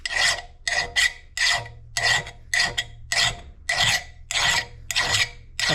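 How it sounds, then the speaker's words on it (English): Hand file sharpening the edge of a lawn mower blade, about ten rhythmic rasping strokes, loud and close with brief pauses between each pass. "So all we're going to do is go along like this, sharpening that edge back up."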